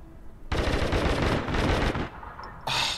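Sustained rapid gunfire from the online shooter game APB Reloaded, a dense loud burst of automatic shots lasting about a second and a half, a brief lull, then another sharp burst at the end.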